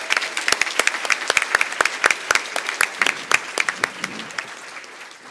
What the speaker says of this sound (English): Please join me in a round of applause for these women.